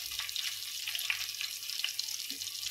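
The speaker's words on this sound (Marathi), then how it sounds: "त्यावरती मी कांदा ॲड करते" Chopped onion hits hot oil already tempered with cumin and green chili for kande pohe, giving a steady, close crackling sizzle with small pops and no voices.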